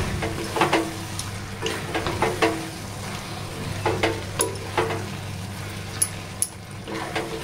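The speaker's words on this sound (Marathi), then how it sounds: "छान हलवून घेऊया." A spoon stirs ridge gourd sabji with crushed peanuts in a pan, giving irregular metallic scrapes and clinks over a soft, steady sizzle, close and clear, with no voices.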